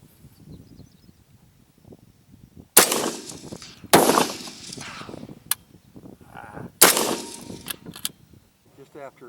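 Rifles chambered in 20 GPC and .223 Wylde fire during a prairie dog hunt, sending out three sharp, loud cracks spaced a second or more apart over a quiet outdoor background. A faint click follows.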